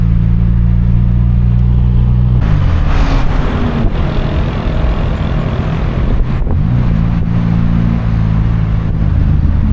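Loud, close road traffic in Tehran: engines idle with a steady low rumble, then a vehicle accelerates past with a surging roar before the idling drone settles back.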